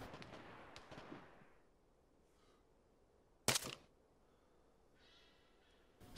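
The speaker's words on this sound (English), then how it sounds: "Someone's shooting at me." Gunfire in the military video game ArmA 3: a single sharp distant shot cracks out of near silence, preceded by faint rustling and followed by a quieter burst near the end.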